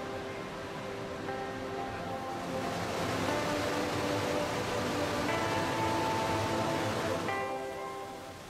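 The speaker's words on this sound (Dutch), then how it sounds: "Dit zijn de Lattefossen in Hordaland. Hier stroomt het water gewoon onder de rijweg door." Låtefossen waterfall in Hordaland, Norway, where the water rushes beneath a road, makes a steady broad roar of falling water that swells gently and stays continuous throughout, with no voices.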